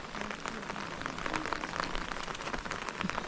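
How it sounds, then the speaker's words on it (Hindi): Heavy rain falling steadily on a Himalayan mountain trek trail between Sankri and Gangad village, a dense, even patter of drops on surfaces with no voices. "बारिश हो गई है अच्छी खासी"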